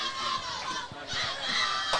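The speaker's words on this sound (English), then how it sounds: "this is going to be a capacity crowd" A packed, capacity crowd at a girls 12U softball championship keeps up a steady murmur with scattered shouts and children's voices, loud and close throughout.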